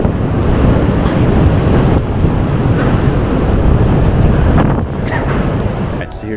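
Strong wind roars across the open deck of the Norwegian Joy cruise ship, a loud, steady buffeting rush over the microphone with sea surf beneath, continuous throughout, no voices.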